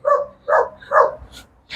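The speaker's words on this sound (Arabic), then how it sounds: "ولكن راه واحد الكلب راه هو تينباع عليا وما عنديش مع الكلاب" A dog barks at close range, three loud barks in a quick, even rhythm followed by a softer yelp or two.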